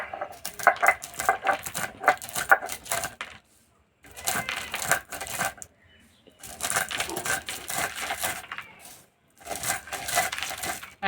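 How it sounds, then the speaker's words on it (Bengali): Roasted desi chickpeas (chana) are lightly pressed and cracked to loosen their husks, giving close, crisp crunching and crackling in several bursts separated by short quiet pauses. "হালকা করে চাপ দিয়ে গুঁড়ো করে নেব।"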